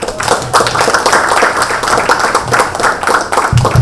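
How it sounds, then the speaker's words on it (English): Audience applause after a startup training talk on consumer marketing, loud and close, with individual hand claps clearly audible in an uneven, continuous burst. "could we have a big round of applause, please?"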